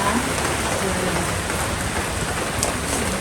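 Steady heavy rain falls in Munnar, a dense, continuous hiss of drops on surfaces that stays loud and even throughout.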